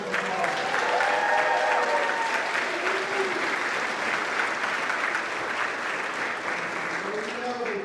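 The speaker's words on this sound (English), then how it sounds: "Give them a big round of applause." Steady applause for the choir at a community college awards ceremony fills a room, with some voices murmuring underneath the clapping.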